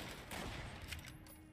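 Faint rapid gunfire from ceiling-mounted machine gun turrets in Fallout: New Vegas, a continuous muffled rattle of shots over a short stretch, heard from a distance.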